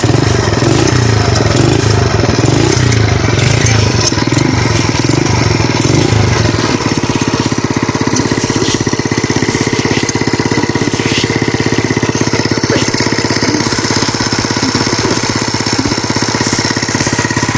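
Honda C70 motorcycle engine with a newly fitted clutch lining starting and running, a loud, steady close-up putter with rough clatter in the first seconds, then settling into an even idle.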